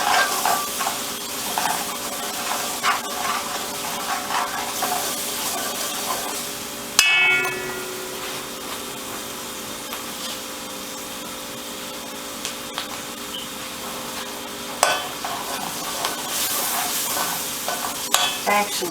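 Flour being stirred into a sizzling pan of Salisbury steak drippings to make gravy, with a steady frying hiss under intermittent scraping and stirring clatter and a few sharp knocks of the utensil against the pan.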